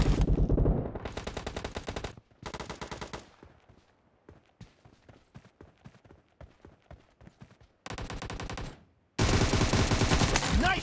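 Bursts of rapid automatic gunfire in PUBG Mobile's Gun Game arena mode, loud dense volleys separated by sparser single shots and clacks, with a short gap before two final heavy bursts.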